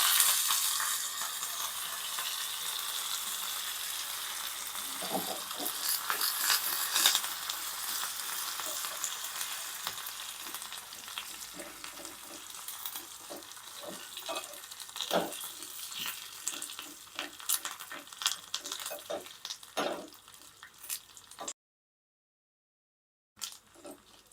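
Ginger and tempering spices sizzling and frying in a pan for curd rice, a steady close crackle with stirring scrapes, fading toward the end before a brief silence.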